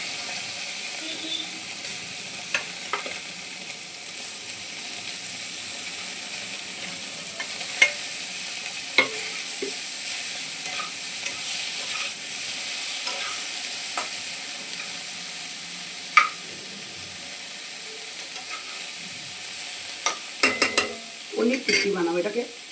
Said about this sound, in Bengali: এটাকে আমি এরকম করে টস করে নেবো